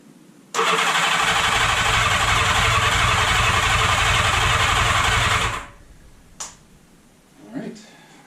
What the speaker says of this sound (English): I'm going to roll it over a bit without ignition on at first, just to see if I can get some fuel in the carbs.